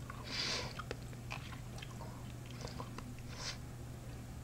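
Crunchy spicy sausage from a Sichuan-style self-heating hot pot being chewed close up, a few soft crunchy bites with quiet gaps over a low steady hum.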